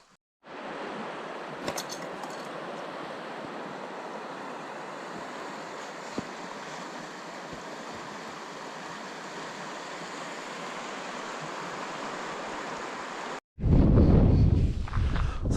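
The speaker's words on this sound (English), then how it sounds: "So it's windy up here." Steady wind rushes across the microphone for most of the stretch, broadband and constant, then a loud low buffeting gust closes it out.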